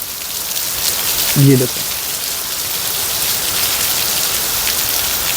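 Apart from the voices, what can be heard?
heavy rain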